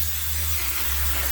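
Glue sprays from a can onto a floor on a plumbing job site, a steady close hiss lasting a second or so over a low background hum.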